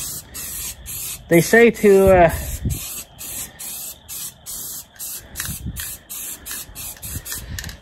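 Spray paint hisses onto a John Deere combine in a series of short, evenly spaced bursts from close by. Someone talks briefly partway through.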